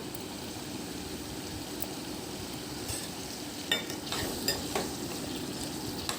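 Brinjal pieces fry in oil in a pan, giving a soft, continuous low sizzle while they are stirred, with a few light scraping clinks near the end.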